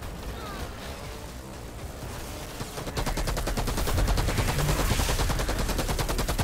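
Sustained gunfire from a gun in the Outriders video game during a boss battle, a rapid stream of shots that grows louder and denser halfway through and continues to the end.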